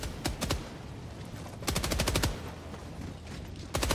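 Bursts of rapid automatic gunfire in a co-op action video game, three separate volleys of sharp repeated shots, loud and close with no talk over them.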